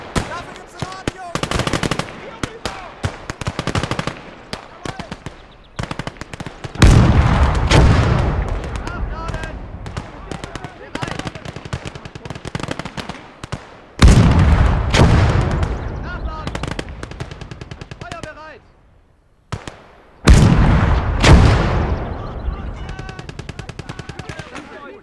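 Rapid machine gun bursts and scattered gunfire from a World War II battle in the strategy game Gates of Hell: Ostfront, loud and dense with heavy booms, repeating in waves across the clip while voices talk over it.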